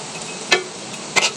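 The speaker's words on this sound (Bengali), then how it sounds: "আমি অবশিষ্ট বড়াগুলোও ভেজে নিচ্ছি।" Jackfruit-juice bara pitha fry in oil over medium heat, a steady soft sizzle running throughout, broken by two brief clinks of a utensil against the pan.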